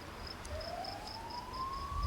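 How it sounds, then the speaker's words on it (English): A siren slowly winds up in pitch from a distance, rising steadily over a faint repeating beep and low outdoor rumble. "And there it goes. Once again, a siren."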